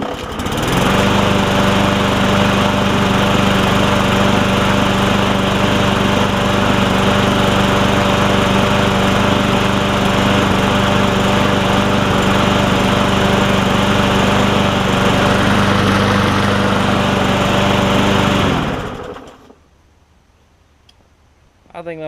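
A Murray 20-inch push lawn mower engine runs steadily and loud for about nineteen seconds, with a constant droning tone, then cuts off abruptly into near silence.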